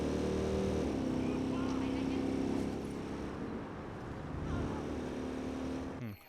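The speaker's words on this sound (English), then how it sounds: "I drive at least a little bit better in the motorcycle." Motorcycle engine in the video game Watch Dogs 2, a steady droning hum with shifting pitch as the bike rides on, under a fairly quiet game soundtrack mix.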